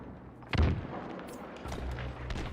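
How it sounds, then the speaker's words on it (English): Grenades exploding during a competitive Halo match, with one loud, deep boom near the start followed by a quieter low rumble of further blasts and game action. "I hear nades being thrown."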